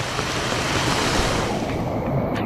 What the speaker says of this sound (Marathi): वरून येतं पाणी अक्षरशः